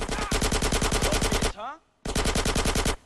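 Rapid SMG bursts in GTA San Andreas: a long, steady rattle of evenly spaced shots, a brief pause, then another sustained burst, loud and close.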